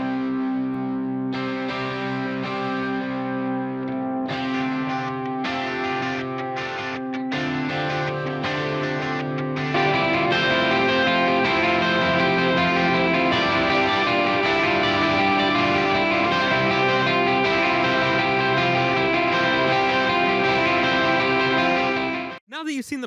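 Electric guitar part in a CCM, worship or country style mix with an OTT multiband compression plugin switched in partway: layered chords and picked lines that turn denser and brighter after about ten seconds, continuous and loud until a sudden cutoff at the end.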